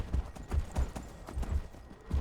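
Steady hoofbeats of a horse galloping in a rhythmic clip-clop in the video game Skyrim, moderately loud, with no talking.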